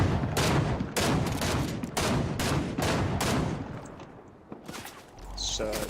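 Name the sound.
Charge SMG gunfire in the video game Fortnite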